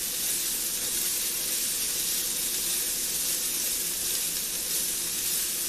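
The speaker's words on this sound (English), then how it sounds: "toss and fry your chopped pepper for a few minutes until it's as soft as you want it" Chopped bell pepper frying in a pan, a steady, even sizzle and hiss throughout with no break and no voices.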